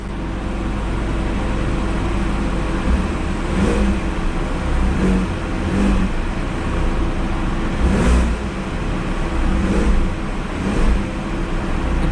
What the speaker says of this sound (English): The engine seems to run okay, and I think it might be misfiring on one cylinder